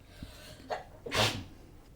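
A single close sneeze bursts out after a short preparatory intake of breath.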